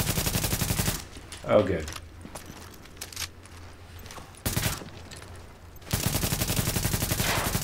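Rapid automatic gunfire in the shooter game The Division comes in loud sustained bursts at the start, middle and end, with quieter gaps between. A brief spoken remark falls in one of the pauses.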